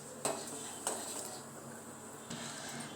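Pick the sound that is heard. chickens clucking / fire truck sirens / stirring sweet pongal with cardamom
stirring sweet pongal with cardamom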